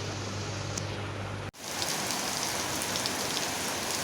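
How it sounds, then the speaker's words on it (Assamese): Dense, heavy rain pouring steadily onto surfaces, a continuous loud hiss with a brief dropout near the start; no voices. "এয়া চাওক কিমান ডাঙৰ বৰষুণ আজি।"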